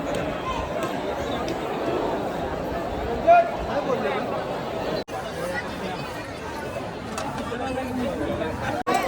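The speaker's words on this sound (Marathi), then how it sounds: "आज खूप प्रचंड प्रमाणात गर्दी आहे मित्रांनो" Large crowd of worshippers packed into a Kolhapur temple, a dense murmur of many voices chattering continuously around the listener, with occasional nearer voices and brief bumps.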